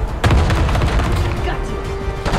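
A rocket launcher explosion in the Black Ops 6 video game bursts loud and close, then a rumbling tail with scattered crackles and debris hits over steady battle noise.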